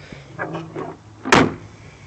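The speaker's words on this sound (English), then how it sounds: "Yep, sounds like an E28 door." A BMW E28 car door swings and shuts with a solid, close thud, preceded by a few soft handling clunks; no talking.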